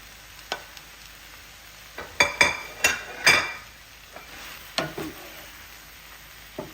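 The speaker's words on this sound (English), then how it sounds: "I'm going to go ahead and add it to the pan with the peppers and onions" Sliced chicken hitting a pan of peppers and onions for fajitas, a faint sizzle under a handful of sharp utensil clinks and scrapes as the pieces are tossed in, close by with no talking.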